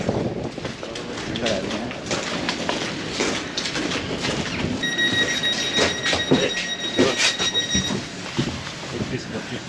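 Steady rumble and rattle inside a train carriage in Poland, with people talking nearby and a faint high electronic tone partway through.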